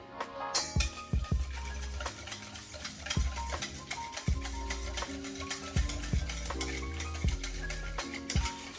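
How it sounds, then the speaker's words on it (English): A spoon stirring molasses into Jamaican toto batter in a bowl, giving steady rhythmic scraping and knocking strokes throughout, close and moderately loud, with no talking. "I'm going to put a tablespoon of molasses. And just keep mixing."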